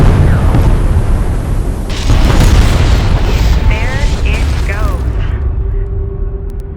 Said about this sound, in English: Pull back to a safe distance and initiate detonation.